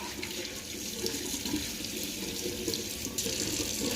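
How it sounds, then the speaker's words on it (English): A tap runs steadily while a hand is rinsed under it, a continuous close hiss of water splashing into a sink with no pauses. "I'm gonna rinse my hand off."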